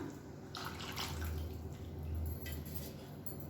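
Reserved cooking water from boiled onions and tomatoes is poured into a pot, a steady liquid gush with splashing running for a few seconds, close and fairly quiet, with no talking.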